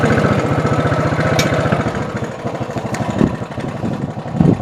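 Motorcycle engine idling in Jaipur, a loud, steady pulsing putter that stays close, with a few small knocks and clicks toward the end and no voices.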